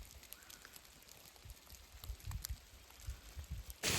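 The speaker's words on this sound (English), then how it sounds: "the hail is big enough that it hurts now" Hail falls during a thunderstorm among pine trees on the Pacific Crest Trail, a faint scattered patter of small impacts that ends in a sudden loud rush.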